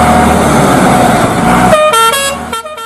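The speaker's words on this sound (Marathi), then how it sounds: "तोच मागून एक ट्रक जोरात हॉर्न मारत येऊ लागला" A truck's horn blares loudly from behind on a road, sounding as a few sustained, close blasts that cut through the rumble of traffic.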